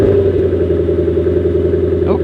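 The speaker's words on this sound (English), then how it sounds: "I see it's got an invidia exhaust on it. Let's see what this thing sounds like." A Lexus RC F fitted with an Invidia exhaust runs close by with a steady, buzzing engine drone, its pitch climbing briefly near the end as the revs rise.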